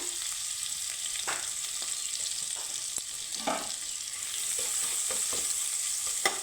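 Whole cumin seeds, grated ginger and chopped chili sizzle in a little hot oil, a steady close frying hiss with a few soft stirring scrapes and clicks, no voices.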